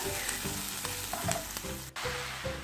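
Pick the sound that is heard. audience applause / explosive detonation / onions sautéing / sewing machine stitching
onions sautéing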